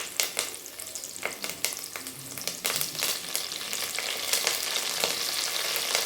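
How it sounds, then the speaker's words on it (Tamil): Large onions sautéing with mint and curry leaves for chicken biryani, a bright crackling sizzle with spatula stirring strokes, growing denser and louder toward the end. "பெரிய வெங்காயம் இது ஓரளவுக்கு வதங்கினா போடுங்க நல்லா வதங்கணுங்கிறது இல்லை இப்போ வந்து உங்களுக்கு புதினா தலை கருவேப்பிலை தலை போட்டுக்கலாம்"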